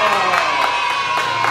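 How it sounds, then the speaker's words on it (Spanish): Lucha libre audience cheers, whoops and claps for a wrestler in a short, dense burst of crowd noise with shouted voices throughout. "fuerte el aplauso para Iván Maldonado"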